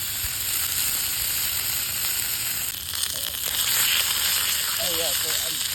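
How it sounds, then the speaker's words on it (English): Beef sizzles in a pan over a campfire, a bright, continuous frying hiss that holds steady throughout, with faint voices in the background. "It's sizzling."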